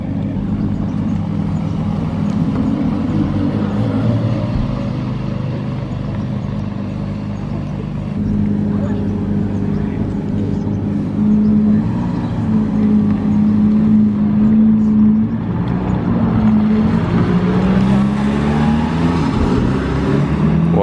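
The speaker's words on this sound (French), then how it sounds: "Première des deux Carrera GT qui sort." Porsche Carrera GT hypercar pulling out on a closed road with a cold, smoking engine: a steady low engine drone holds throughout, rising slightly toward the end as it moves off, fairly close and continuous.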